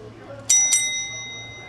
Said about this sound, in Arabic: صوت الجرس يعطي الإشارة لمحمد بوجود طلبات من الزبائن